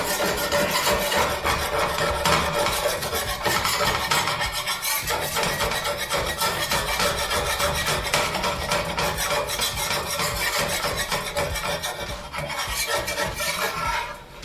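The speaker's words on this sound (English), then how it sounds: "Can't hear you over my scraping, sorry." A metal spatula or scraper rasps steadily across a flat-top griddle being scraped clean during burger cooking, a loud, continuous close-up grinding that runs the whole time with no talk.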